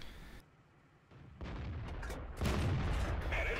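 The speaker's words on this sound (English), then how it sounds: "I'm just going to sit back here and keep on firing" Tank gunfire in World of Tanks, an Arctic map battle with the TOG II*, heard as a dull muffled boom followed by a sustained loud rumbling roar that swells and stays heavy to the end.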